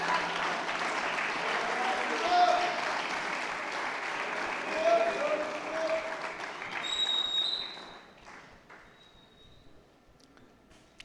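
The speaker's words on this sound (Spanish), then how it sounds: "demos una manifestación de ovación a nuestro Padre" A church congregation applauding together as an ovation in a Spanish-language service, a full and steady wash of clapping that fades away toward the end, with a few voices rising above it.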